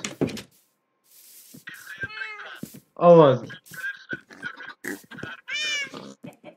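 A video game cat gives several short meows, loud and near, scattered between bursts of a child's excited Portuguese chatter.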